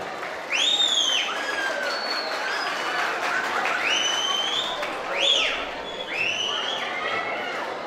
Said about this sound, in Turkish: güzel bir alkış yapıyoruz geline ve damada